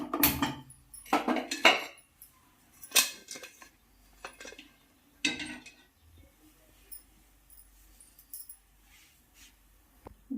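Sharp metallic clanks and knocks from a stove being lit and a pressure cooker being set on it while cooking mutton biryani, a few loud hits followed by quieter scattered clinks.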